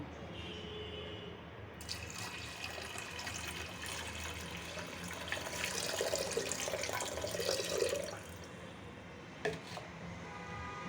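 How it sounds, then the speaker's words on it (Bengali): Water streams and splashes continuously into a pot of washed lentils, close and steady, with louder gurgling toward the middle before easing off. "এখন ডালে পানি দিয়ে দিব"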